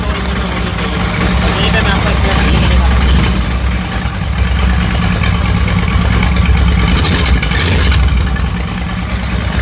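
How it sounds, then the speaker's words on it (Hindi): A Kawasaki Vulcan 1500 cruiser motorcycle engine idling up close, a loud, steady low rumble throughout with a couple of slight swells. "इंजन के करीब लाके आवाज़ सुनाएं"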